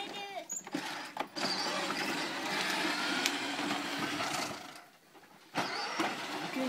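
An ATV engine revs hard during a wheelie, a sustained throaty roar that dips briefly before surging again, heard nearby and outdoors.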